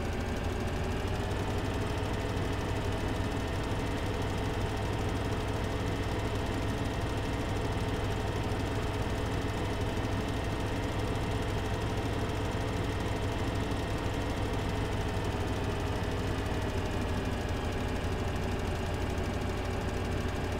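A tractor engine in Farming Simulator 2013 runs at a steady, unchanging drone, a loud, continuous mechanical hum with no pauses or speech.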